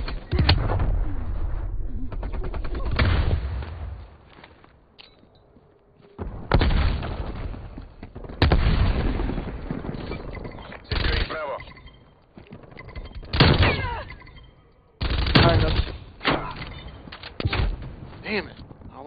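Artillery strike and gunfire in Call of Duty Black Ops Cold War Hardcore Domination on an Uzbekistan map, loud repeated booming blasts and gun bursts in clusters, with voices over them.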